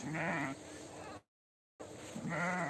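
Kangal (Akkaraman) sheep on a pasture bleating: two loud, close, drawn-out bleats separated by a brief silent gap.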